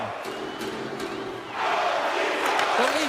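Crowd noise in an ice hockey video game, Leafs versus Philadelphia late in a tied period, swelling from a steady arena murmur into a louder roar of cheering halfway through.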